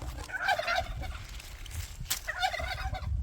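Turkeys gobble outdoors on a farm in Uzbekistan, two loud warbling bursts with a short gap between them, close by over steady low background noise.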